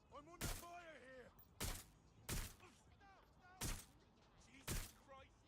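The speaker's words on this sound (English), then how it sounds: "I'm under fire here!" Loud gunshots in the video game Watch Dogs: Legion, five sharp blasts spaced about a second apart, with talk and game voices running between them.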